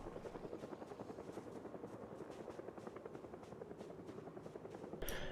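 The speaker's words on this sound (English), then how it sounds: "Speaking of the helicopter, there it is." A video game helicopter arrives with a steady, rhythmic rotor thump that holds at a moderate distance. A brief louder burst comes at the end.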